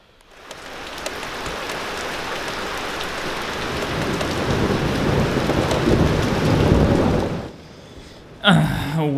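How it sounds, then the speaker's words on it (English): Steady heavy rain pours through a thunderstorm with a deep continuous rumble of thunder swelling toward the end, then cutting off abruptly before a brief burst of a different sound. "I just came home before this thunderstorm there started"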